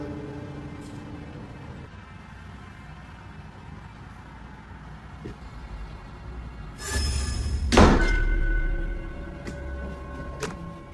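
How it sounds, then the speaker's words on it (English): A loud, sudden bang near the middle, like a door slamming, rising out of a quiet, hissy room and leaving a brief low rumble after it. "Suddenly, the door slammed shut violently"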